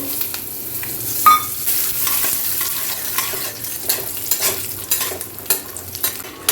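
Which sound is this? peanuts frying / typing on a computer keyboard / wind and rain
peanuts frying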